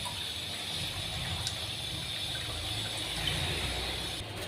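Water gushes and splashes steadily while a panchaloha Ganesha idol is rinsed during cleaning, a continuous close pouring wash with no voices.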